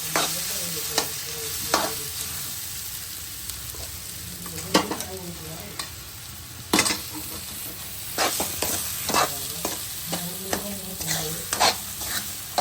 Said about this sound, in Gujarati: આપણું પોટેટો મેશ કરેલા છે એનો જે મસાલો છે આપણે એની અંદર નાખી અને સારી રીતે મિક્સ કરી દઈશું